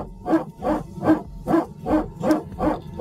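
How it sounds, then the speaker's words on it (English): An aircraft hydraulic power transfer unit gives a rhythmic, barking whine repeating about every half second, seven pulses in a steady mechanical cycle, fairly close and unaccompanied by speech. "you've probably heard the sound of the PTU"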